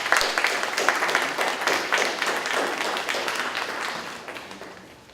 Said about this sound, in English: Can we give these ladies an applause?